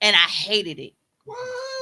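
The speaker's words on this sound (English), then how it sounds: "that was a cat." A cat meows with a tonal, harmonic call near the end, right after people talk and a brief pause.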